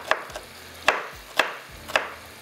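A knife chops onion finely on a board with four crisp, evenly spaced strikes, close and clear with no talking.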